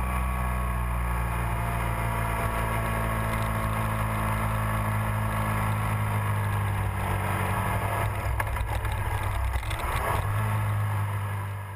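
Steady motorcycle engine drone while riding a desert highway between Nevada and California, continuous and loud with wind noise, the tone briefly shifting near the end as the rider changes gear.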